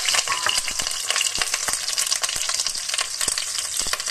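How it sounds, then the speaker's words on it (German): Stuffed peppers frying crisply in a pan, giving a loud, continuous sizzle full of crackles and spitting pops, heard up close and alone. "Wir braten das von allen Seiten schön knusprig an."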